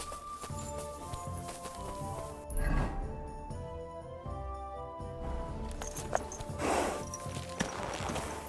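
A horse's hooves clop at a walk in the video game Kingdom Come Deliverance 2, soft uneven footfalls set under a sustained tonal musical background.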